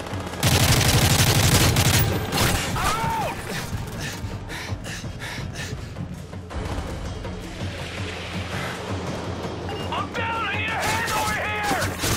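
Gunfire in the Call of Duty Modern Warfare 3 Special Ops mission Negotiator, with loud bursts of shots and crashes running through the game's noisy action, and a voice talking over it.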